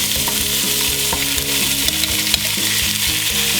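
Sirloin beef browns in hot oil in a heavy-bottomed saucepan, giving a loud, continuous close sizzle with crackling pops throughout.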